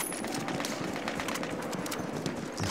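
Rapid clip-clop of galloping horse hooves in Battlefield 1, steady and fairly close, over a constant background wash of game ambience.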